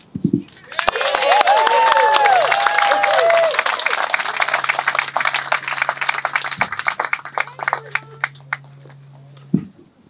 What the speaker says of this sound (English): give the biggest cheer and round of applause for all of us